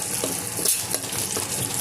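Onions sizzling and frying in a pan on a 1600 W cooker, a soft continuous crackle with occasional stirring scrapes, close and fairly quiet.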